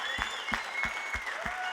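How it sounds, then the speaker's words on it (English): An audience at a presentation claps for the kitchen staff. A few loud, separate claps come in an even rhythm over a brief stretch, sounding like a small nearby group. "I just want to really give a round of applause to the kitchen guys tonight."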